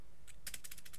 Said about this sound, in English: Tell me if you see the keyboard. I mean, hear the keyboard.